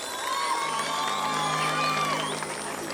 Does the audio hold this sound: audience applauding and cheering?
yes